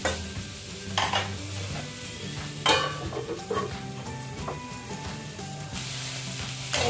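Mixed vegetables sizzle steadily in a frying pan while a spoon stirs and scrapes them in bursts, with a constant hiss beneath the stirring and no voices.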